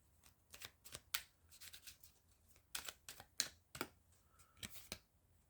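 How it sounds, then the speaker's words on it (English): Tarot cards are shuffled by hand in quick, crisp riffling bursts with short pauses between them, close and quiet in an otherwise silent room. "I'm shuffling these cards like mad"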